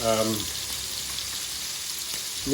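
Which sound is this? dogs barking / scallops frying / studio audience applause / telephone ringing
scallops frying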